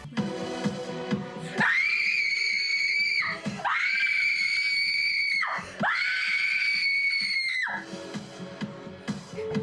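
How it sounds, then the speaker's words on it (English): Teen girl screaming in a horror movie scene, three long piercing bone-chilling screams in succession, loud and close, breaking off between each. "When I mean screaming, I mean bone-chilling screaming."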